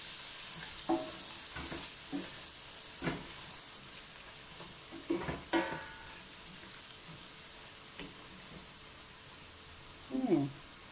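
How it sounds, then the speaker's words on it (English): Food being stirred in a pan with a soft continuous sizzle under it, punctuated by several distinct scraping strokes of the utensil, close and fairly quiet. "Give it a stir."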